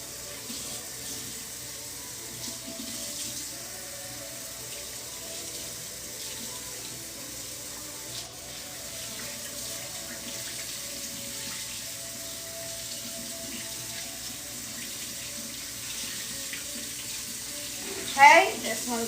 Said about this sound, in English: We are rinsing tie-dyes tonight.